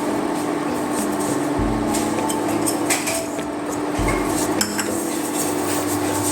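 Bombay rava (semolina) going into hot ghee in a metal pan, heard as continuous clinking and scraping of a utensil against the pan, fairly close and loud, with no talk.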